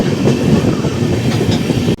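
The Tirupati Express rolls into Tiruttani station on platform one: steady loud rumble and clickety-clack of railcars close by, ending in a brief drop as it slows.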